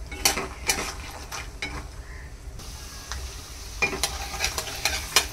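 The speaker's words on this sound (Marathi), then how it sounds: "याला देखील छान मंद आचेवरती क्रिस्पी होईपर्यंत थोडंसं तळून घ्यायचं आहे." Cashews, almonds and walnuts fried on a low flame until crisp, a soft sizzle under repeated clinks and scrapes of a spoon stirring against the pan.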